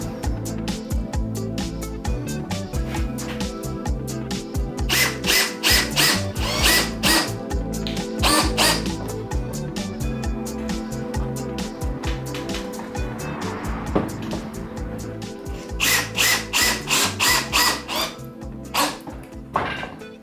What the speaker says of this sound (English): I'll get the clamps off and I'll be able to screw in the other ones